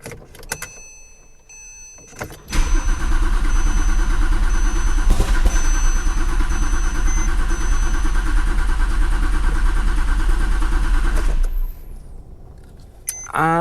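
A rebuilt Porsche 911 Turbo 997.2 engine cranks with a steady starter whir for several seconds, then catches and runs loudly and evenly before cutting off, recorded close up.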